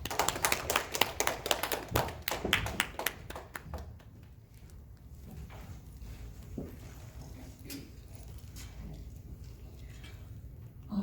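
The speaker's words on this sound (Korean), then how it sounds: "많은 박수로 전하겠습니다." A church congregation applauds, loud scattered clapping for about four seconds that thins out into quiet room noise with a few stray claps.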